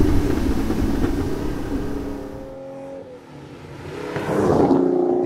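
A Ferrari race car engine revs loudly, its note climbing in stepped harmonics, dropping away briefly, then surging again as the car accelerates close by.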